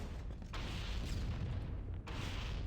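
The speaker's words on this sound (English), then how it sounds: "Lob grenades." Grenades exploding in Halo: Combat Evolved, a dense, continuous roar of booming blasts that fills the clip, with brief dips between detonations.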